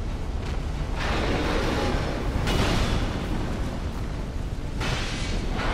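An enemy blowing up in Dark Souls II produces booming, roaring bursts, the loudest swelling midway and another near the end, over a constant rumbling background.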